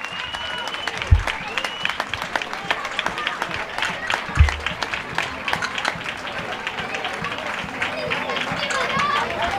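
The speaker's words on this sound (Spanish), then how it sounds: "¡Venga, un aplauso fuertísimo!" A crowd at the San Vicente Paúl romería in Lomo Apolinario claps loudly and steadily, an outdoor patter of many hands with a couple of low thumps and murmuring voices beneath.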